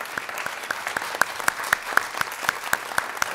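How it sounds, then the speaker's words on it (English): Audience at a city council forum giving a round of applause: sparse, fairly quiet clapping from a smallish crowd, individual claps distinct, steady for a few seconds. "let's give them a round of applause for doing a great job"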